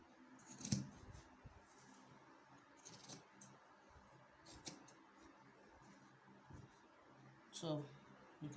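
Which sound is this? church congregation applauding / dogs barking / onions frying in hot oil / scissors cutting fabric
scissors cutting fabric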